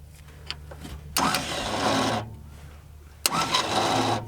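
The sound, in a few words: old truck starter cranking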